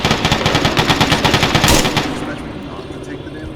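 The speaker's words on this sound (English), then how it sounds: "We were explicitly told not to shoot in the can." Rapid automatic gunfire in the military shooter Arma 3 during a co-op mission, a loud fast string of shots for about two seconds that then gives way to fainter distant sounds.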